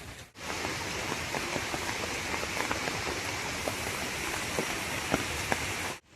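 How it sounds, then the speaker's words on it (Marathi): Heavy monsoon rain pours down on a Konkan farm garden, a dense, steady hiss with scattered drop patter, loud and continuous without talking. "परंतु आता तर खूपच पडायला लागला आहे आणि आता सर्व दूर पाऊस आहेच।"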